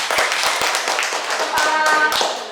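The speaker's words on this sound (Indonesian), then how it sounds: "tepuk tangan untuk Pak David juga" A small group in a school gathering applauds, scattered hand claps and taps, with a voice speaking over them.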